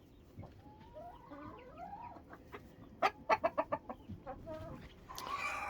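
Chickens and roosters cluck on a farm, a quick run of sharp, loud clucks standing out from soft background calls and a fluttering of wing or body noise near the end.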